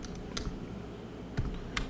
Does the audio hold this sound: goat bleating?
no